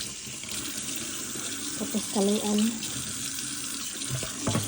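Steady hiss of water pouring from a tap, running continuously while a person speaks briefly in the middle.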